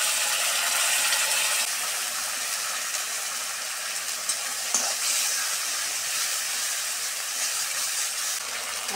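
Onion paste sizzling in a hot pan after chopped garlic for an egg curry, a steady close hiss with faint scraping and a brief clack partway through, no voices.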